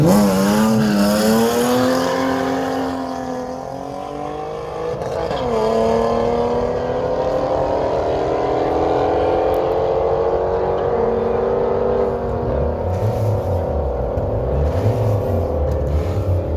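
Mercedes and BMW cars in a drag race final in Ingushetia, engines roaring loud and continuous, with rising revs and gear-shift pitch changes, a steady close engine drone throughout and some tire noise.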